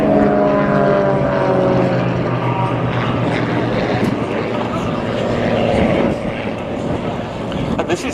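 Propeller aerobatic display aircraft such as a 330 horsepower Extra 330 flying at an air show, a loud steady engine drone with shifting pitch as it passes, with commentary talk over it.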